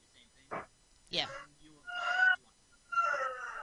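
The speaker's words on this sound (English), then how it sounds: "And he has a rooster in his house." A rooster kept indoors in a house gives a couple of hoarse calls, the last two longer and strained, fairly close with short quiet gaps between.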